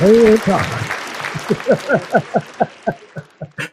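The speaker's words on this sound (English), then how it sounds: "I gotta clap on that one." A single person claps hands repeatedly, about a dozen sharp, close claps in a steady rhythm, following a brief burst of voices at the start.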